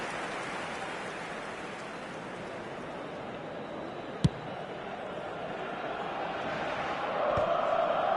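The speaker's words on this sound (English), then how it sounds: "it certainly got the crowd going" Stadium crowd in an eFootball match roars with a steady, dense cheering wash that swells louder toward the end, with one sharp click partway through.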